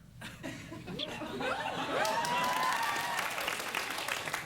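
Late-night talk show studio audience applauding with some chuckles and laughter mixed in, building up and holding steady, with a voice briefly audible over the crowd.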